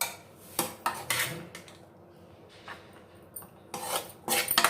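Avarekalu palya being served from a pan into a dish, with scattered scraping and clinking of a utensil against metal, quiet and close, in short irregular strokes and no talking.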